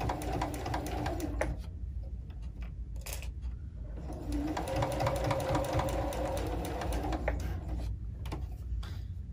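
A sewing machine stitches pleats on a fabric face mask, running in a steady close mechanical whir broken by a couple of brief pauses, with no talking over it.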